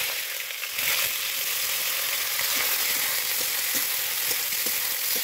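Raw onions hitting hot mustard oil in a pan: after a brief quiet start, a loud, dense, continuous sizzle erupts and holds steady, close up, with faint clicks of stirring underneath and no talking.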